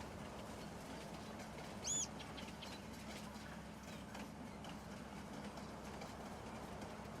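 A train in Farming Simulator 19 rolls along the rails with a faint, continuous low rumble and soft clatter at a distance, broken by one brief high chirp near the start.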